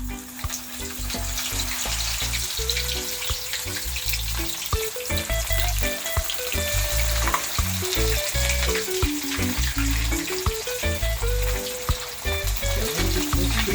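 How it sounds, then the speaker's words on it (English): Fish frying in hot oil in a pot, a dense continuous sizzle and crackle with irregular popping spatters, steady and close without any talking. "my oil is hot, so I'm gonna start frying now"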